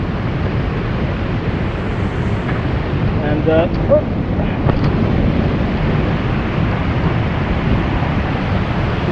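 Strong wind buffets the microphone in a loud, continuous low rumble, with a brief voice faintly audible beneath the roar.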